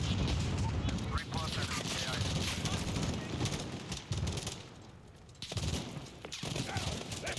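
A missile launch amid heavy gunfire in Call of Duty: Modern Warfare, with dense bursts of shooting and booming blasts filling the scene, briefly dropping away before resuming.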